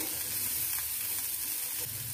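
Chana masala sizzles and fries steadily on a flat tawa griddle, a close, continuous hiss with no talking.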